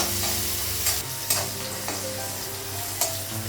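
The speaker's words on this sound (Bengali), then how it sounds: "পেঁয়াজটা একটু ভেজে নেবো" Onions frying in oil in a home kitchen pan for a Bengali egg curry, a steady close sizzle with a few brief clinks and scrapes of stirring on top.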